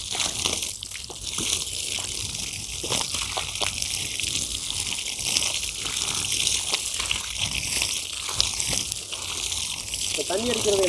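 Water sprayed from a motor-driven hose onto a vermicompost bed on a farm, a steady close gushing and splashing that runs throughout while people talk over it.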